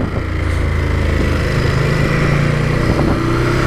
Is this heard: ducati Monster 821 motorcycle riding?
yes